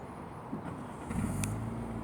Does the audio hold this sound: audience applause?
no